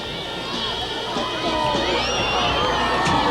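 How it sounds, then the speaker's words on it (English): A capacity crowd at a high school football game fills the stands with a dense, continuous murmur of chatter and scattered shouts, heard under a commentator's speech. "The capacity crowd starts to file out."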